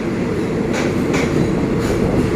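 Express train 108 from Den Chai to Bangkok pulls into Phitsanulok station, a loud steady rumble of wheels on rails with faint rhythmic clacks, no voices.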